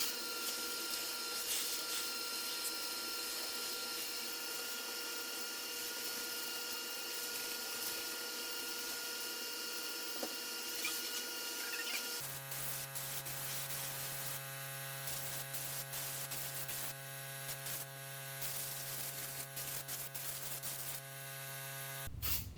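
A vacuum cleaner sucking up metal particles from a steel computer case, a loud continuous whine that changes tone partway through as the nozzle moves, running steadily the whole time.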